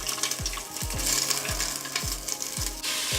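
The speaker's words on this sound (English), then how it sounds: "Kind of like, ooh, sizzling already." Hot oil sizzles steadily as sausage fries in a preheated Instant Pot, with a few low thumps and scraping sounds from the pot; no voices.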